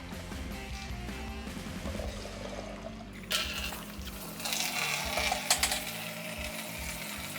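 Water poured down a clogged, cracked sewer pipe, a steady watery wash that grows louder and more turbulent partway through, with gurgling surges near the pipe.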